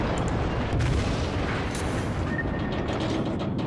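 Secondary guns of the battleship Kongo firing in World of Warships, a dense, continuous rumble of booming salvos with mechanical clatter over a steady low roar, no voices.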